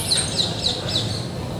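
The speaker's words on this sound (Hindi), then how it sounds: "यहाँ पे कबूतर बहुत है यार" Birds chirp in a few quick repeated calls at an old madrasa at the Qutub Minar complex in Delhi, where many pigeons gather, heard against light outdoor ambience.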